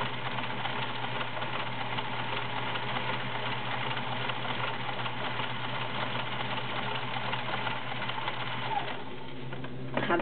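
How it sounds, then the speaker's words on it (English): A vintage Kenmore 1400 sewing machine (1.2 amp) runs a stretch zigzag, or rick-rack, stitch: a steady, continuous mechanical whir with a fast rhythmic needle patter, close and alone, slowing slightly near the end. "Here's a stretch zigzag, or a rick-rack as it will be referred to."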